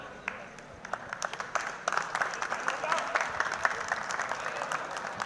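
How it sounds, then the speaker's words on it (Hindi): An audience at a university first aid training event with Holi celebrations breaks into applause, clapping rising and filling the room as a steady, crowded patter, with a voice heard faintly underneath. "तालियां जरूर बजाते रहें"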